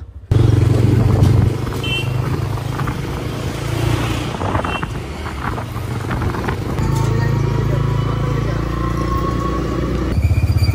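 A motorcycle engine runs steadily and close by for several seconds on a rainy day, its drone rising and falling with road noise and wind buffeting throughout.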